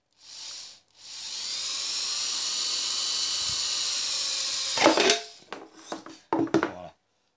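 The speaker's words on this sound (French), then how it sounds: "une fois qu'on a fait le trou, avec une mèche de 3, une petite mèche de 3, ça suffit largement" A small 3 mm drill bit bores a hole in a smooth plastic container, a steady high whine lasting several seconds before it stops, followed by a few scraping and clattering handling noises.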